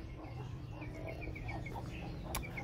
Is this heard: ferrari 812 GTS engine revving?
no